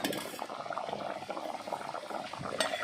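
Village-style fish curry with coconut oil bubbling in a pot, a continuous close simmering burble with soft popping, and a brief clink near the end.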